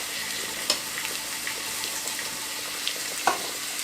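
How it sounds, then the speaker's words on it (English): Salmon pan-frying slowly in a hot pan, a steady, even sizzle close by with a few faint clicks and pops, no voices. "You just take a time and fry the salmon. Do not rush it."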